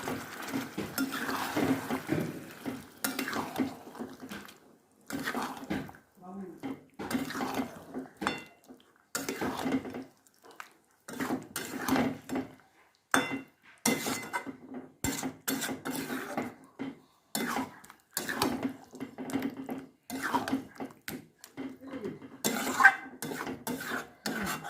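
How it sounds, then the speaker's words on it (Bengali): Spring onion, green chilli and coriander paste being stirred into chicken in a pan, with a spatula scraping and clinking against the metal in irregular bursts, close and fairly quiet, with brief pauses between strokes. "দিয়ে আবার খানিকক্ষণ নেড়ে দেব"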